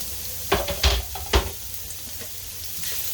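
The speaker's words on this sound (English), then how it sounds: "So we start out by putting a little olive oil in the pan, and then we start out by dumping our onion in." Chopped onion sizzles in hot olive oil in a pan, a steady close crackle broken by a few loud knocks and stirring clatters near the start, then settling into a continuous frying hiss.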